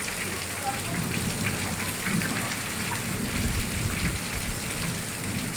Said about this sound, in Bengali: আজকে বৃষ্টি নেমেছে সন্ধ্যে 7টা দিয়ে।